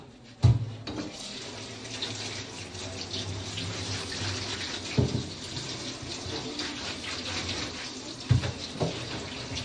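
Tap water runs continuously into a kitchen sink while food for nilaga is washed, a steady splashing flow broken by three sharp knocks or clunks against the basin.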